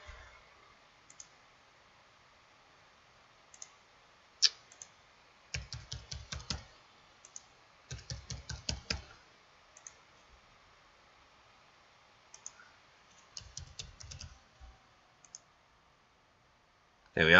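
Someone types a password on a computer keyboard, with short bursts of crisp clicks separated by pauses in a quiet room.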